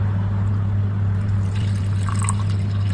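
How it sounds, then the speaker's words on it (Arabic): Water, 200 ml measured for a sugar syrup, pours in a loud, continuous, close stream for the whole stretch, with no voices over it. "اول شي لازم نعمله نضيف 200 ملل من المي"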